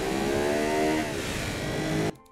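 A car engine in the Automation car-design game revs hard to 9,500 rpm with a dense, rising growl, loud and close, then cuts off abruptly near the end.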